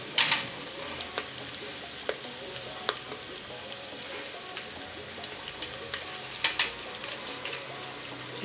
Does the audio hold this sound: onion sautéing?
yes